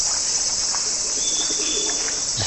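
Pigeons coo softly at a temple in Japan on a hot summer day, a few low murmuring calls set against a steady, loud drone of insects.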